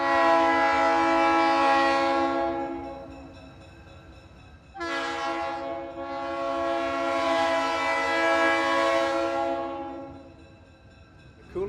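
A train horn blares in two long sustained blasts, loud and fairly close, over the low rumble of a train passing through Cuyahoga Valley National Park, Ohio.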